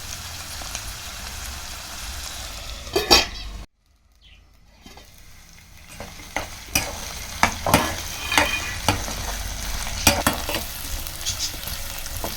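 Potatoes and jackfruit leaves frying in a pan, a close sizzle with scraping stirs, a sudden short silence, then the sizzle returns with repeated sharp spatula knocks and scrapes against the pan.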